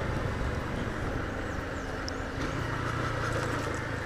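A jeep engine rumbles steadily nearby, with a low motor drone swelling slightly toward the end amid broadband road noise.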